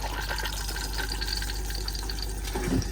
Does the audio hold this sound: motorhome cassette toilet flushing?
yes